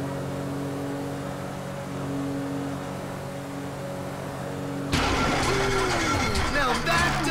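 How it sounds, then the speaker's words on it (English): A damaged boat engine struggles and fails in Grand Theft Auto V, a steady drone that breaks suddenly into loud, rough sputtering and clattering as the motor gives out, with speech nearby. "Now that doesn't sound good. Dang, that's the engine, man."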